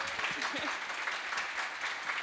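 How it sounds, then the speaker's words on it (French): Audience applause for a panel of four dance speakers at an arts and society talk at Place des Arts, a dense, steady clapping that runs through the whole moment with some voices underneath. "On va les applaudir."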